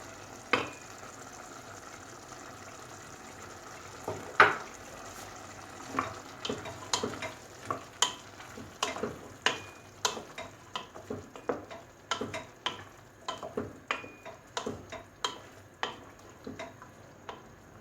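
Carrots, potatoes and tomato being sautéed in a pan for a vegetable pea dish, with a steady soft sizzle under repeated sharp clicks and scrapes of a spoon stirring against the pan.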